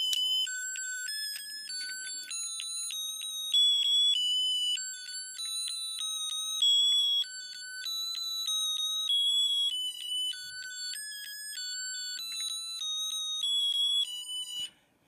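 A school bus button plays a musical electronic alert: a clear, repeating pattern of bright tones stepping between pitches, steady and fairly loud for about fifteen seconds, with no talking.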